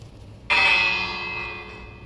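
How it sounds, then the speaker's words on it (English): A single bright bell strike in a video game, a sudden clear ring that hangs and slowly fades over more than a second, alone with no talking. "I think I will set up this bell somewhere"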